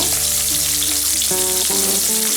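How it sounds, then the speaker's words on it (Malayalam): Onions sauté in oil in a pan for spicy soya chilli, a loud steady frying hiss under sustained tonal hum, with no talk. "സവാള എടുത്തിട്ടൊന്ന് വഴറ്റും"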